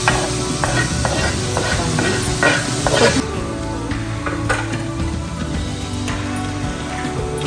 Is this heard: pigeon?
no